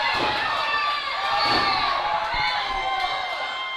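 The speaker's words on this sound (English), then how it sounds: "Can you hear this crowd?" Wrestling crowd at a live indoor show cheering and shouting loudly, with repeated slams and thuds from ring action cutting through the steady roar.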